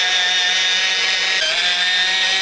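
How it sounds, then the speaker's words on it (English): A light brass wire brush works over the surface of an engine cylinder head on a Ford Powerstroke / Land Rover SDV6 diesel, giving a steady, bright scrubbing hiss that carries on without break. "So I'm first using a light wire brush."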